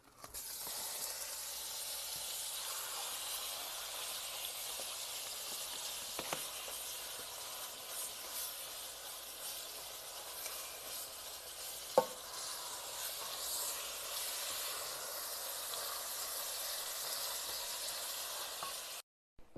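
Ground meat frying in a pan for kibbeh, a continuous soft sizzle with occasional stirring scrapes and one sharp clack, fairly quiet and steady throughout.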